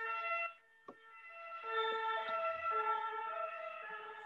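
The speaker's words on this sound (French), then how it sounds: "Je sais même pas si c'est la police ou l'ambulance" A police or ambulance siren outdoors sounds with harmonic wailing tones, briefly broken by a few clicks, then holding steady and moderately distant.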